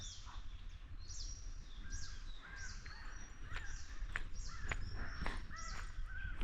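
A large squirrel calls in a forest along a road through wildlife country, sharp repeated call notes at a moderate distance over a quiet hissing background.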